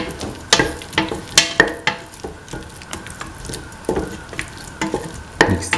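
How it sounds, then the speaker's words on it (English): Tomatoes, shallots, green chili and garlic stirred in a frying pan for a vegetarian stew, a steady sizzle broken by repeated scraping strokes of a utensil against the pan, close and fairly loud, no talking. "Mix the tomatoes, the shallots and the green chili and the garlic."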